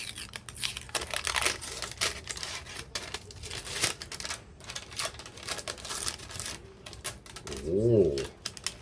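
Protective plastic film being peeled off a Transformer toy, with crackly rustling tearing bursts across the clip and a voice speaking near the end.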